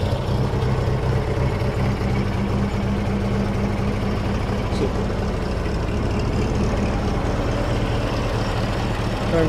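An early Bugatti car's engine running close by, a steady low rumble that holds evenly throughout with no breaks.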